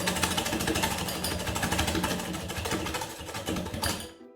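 A whisk beats egg and sugar for crème pâtissière in a bowl, giving a rapid, steady rattling clatter that runs loud and close for several seconds before stopping abruptly.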